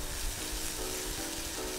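Capers sauté in a hot pan with a continuous, close, even crackling sizzle for a brief moment, and no voices.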